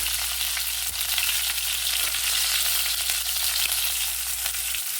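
Cauliflower florets frying in oil for a cauliflower and egg dish, giving a steady, close, dense sizzle with faint crackles and occasional stirring clicks throughout, a low hum underneath, with no talking.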